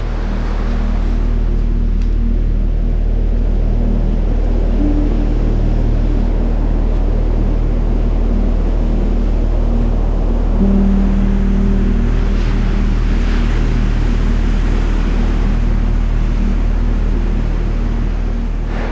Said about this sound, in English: I am at Rialto Beach in the Olympic National Park.